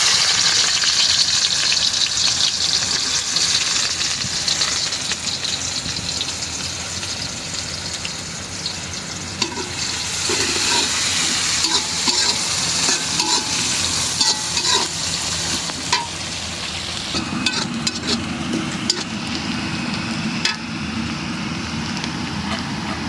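Onion sizzles steadily in hot oil in a pan, with bay leaf already added, as it is stirred, producing continuous loud frying hiss with scraping stirs throughout.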